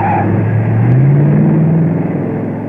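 An all-new Oldsmobile Jetstar 88 with its Jetfire Rocket V8 of up to 315 horsepower accelerates hard at the GM Proving Ground. The engine note is loud and close, a continuous roar that climbs in pitch as it pulls away.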